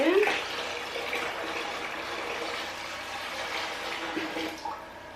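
Water poured into a hydroponic bucket, a continuous splashing gush with a brief stronger surge at the start, fairly close and steady throughout.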